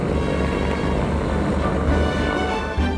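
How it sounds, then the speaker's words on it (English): Propeller engine drone of a Loganair inter-island plane on the Orkney route, a steady loud low rumble filling the whole stretch with no talk. "To get around up here, most people fly on this plane,"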